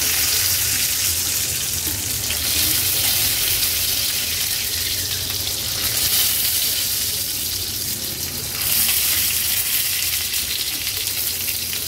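Stuffed tomatoes sizzling in a little oil in a pan over a gas flame, a loud, continuous, even hiss that holds throughout.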